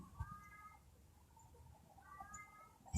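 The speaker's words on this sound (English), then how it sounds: "Can you hear the pussycat?" A cat meows a few times, fairly close, with short tonal calls in a quiet room and a soft bump at the end.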